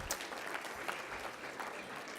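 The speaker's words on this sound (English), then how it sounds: "that does deserve a round of applause" An awards luncheon audience applauds in a continuous, fairly even ovation, heard at a distance and faint overall, with no speech on top.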